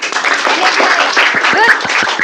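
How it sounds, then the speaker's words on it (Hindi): Children in a classroom clap their hands in a brief burst of scattered claps, mixed with overlapping voices of kids and a teacher talking loudly. "तो आज से जोर से बजाओ, पैसा लग रहा है क्या ताली बजाने?"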